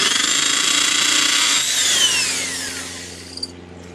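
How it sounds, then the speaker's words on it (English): A power drill with a 1/8 inch bit bores into a wall while installing stone veneer, a loud steady whine that winds down near the end, followed by a short knock. "Then I get my drill, it's got a 1/8 inch bit on it"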